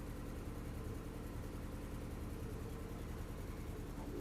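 A car engine idles in a damp unit, giving a steady, even low rumble with no changes in pace, continuous and fairly quiet throughout.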